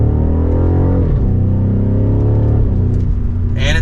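A 2023 BMW M550i sedan in sport mode accelerating through a turn, its V8 exhaust rumbling steadily with rising and falling engine pitch, close and continuous, with no talking.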